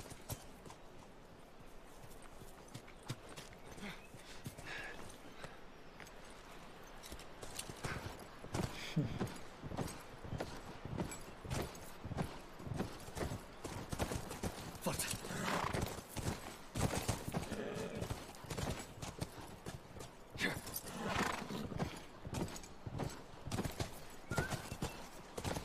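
Horses in The Last of Us game clop steadily along with hooves beating a continuous rhythm, while occasional whinnies rise above the footfalls, loud and close throughout.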